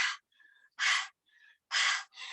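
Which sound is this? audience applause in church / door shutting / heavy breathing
heavy breathing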